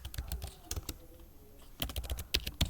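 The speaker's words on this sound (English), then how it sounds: "And then you can type the name of that location." Computer keyboard typing comes in quick bursts of close, crisp key clicks, pausing for about a second in the middle before a fresh burst of keystrokes resumes.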